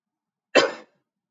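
A single short, fairly loud cough from someone with a cold and flu, standing alone against silence.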